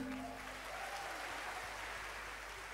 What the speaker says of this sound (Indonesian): Sekali lagi berikan tepuk tangan bagi Tuhan